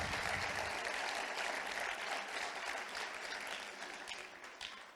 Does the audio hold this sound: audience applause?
yes